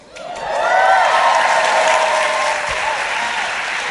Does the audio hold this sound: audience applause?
yes